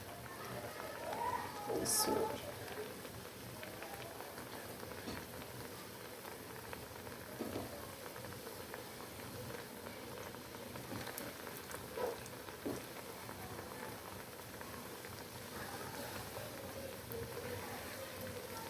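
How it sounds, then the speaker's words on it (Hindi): Potato star snacks fry in hot oil over a low to medium flame, giving a steady, dense bubbling hiss throughout with a few louder crackles, while someone talks over it. "ऐसे ही मैं इन सब स्टार्स को फ्राई कर लूँगी"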